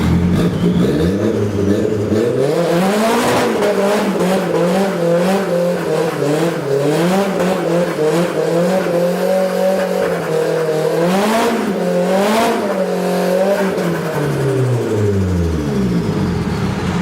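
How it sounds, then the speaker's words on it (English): A Nissan S14 drift car does a sustained burnout inside a shop on new Cosmis wheels. The engine revs loudly and rises and falls in pitch over a continuous roar of spinning, squealing tires. "end this video with a shop burnout"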